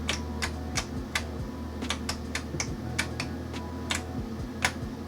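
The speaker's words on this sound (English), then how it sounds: "As you could probably hear me hitting the keyboard" Keys on a computer keyboard are struck by someone playing Doom on an Intel 286 PC, irregular sharp clicks in quick bursts over a steady low machine hum.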